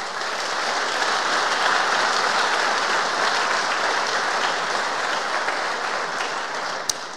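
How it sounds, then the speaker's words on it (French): An audience at a Symfony developer conference in Paris applauding, a steady, dense clapping that holds at full strength for several seconds, fairly close and with no talk over it. "j'aimerais que vous l'applaudissiez, même s'il n'est pas là."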